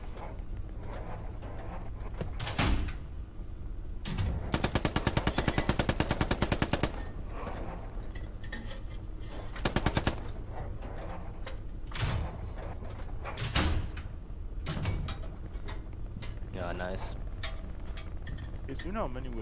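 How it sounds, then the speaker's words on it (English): Machine-gun fire rattles in the World War II shooter game Hell Let Loose, with several loud sustained bursts and scattered single shots among ongoing combat noise, while players talk over it. "Und da ist ein MG beim Haus."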